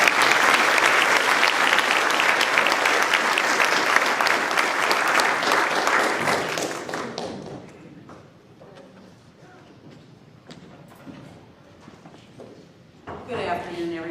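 An audience at a Women of Distinction Awards ceremony gives loud, sustained applause for about seven seconds to welcome host Barbara George, then the clapping fades into a quieter room with scattered shuffling.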